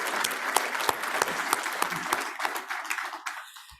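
A board meeting audience gives a round of applause, a dense patter of many hands clapping at close range, holding steady before thinning out and stopping near the end.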